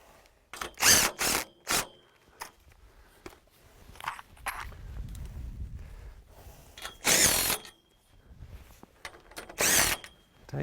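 A power drill tightens bolts on a DIY 10x10 greenhouse frame in several short, sharp bursts, two quick ones early and a longer one later, between quiet handling and shuffling noises.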